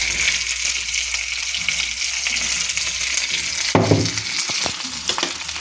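Ground sesame, ginger and garlic frying in hot oil for a fish dish, a steady close sizzle throughout with a few brief stirring clinks and scrapes near the end.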